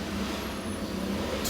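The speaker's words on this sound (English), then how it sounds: "Truck." A truck passes by outside a classroom, a steady, loud low rumble of engine and road noise filling the whole stretch without a break.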